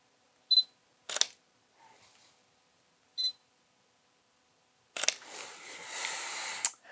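Mechanical shutter of a Sony A7R V mirrorless camera firing in single shots, a soft quiet click heard two times, then several more clicks with a rushing mechanical noise near the end, close and alone.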